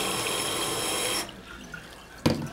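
Hot water runs steadily from a kitchen tap for just over a second, a close, broad rushing that cuts off abruptly, leaving quiet room tone before a brief clatter near the end.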